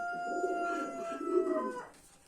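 Pigeons coo in a low, soft, repeated warble close by, with a steady high tonal hum running over them until it cuts out near the end.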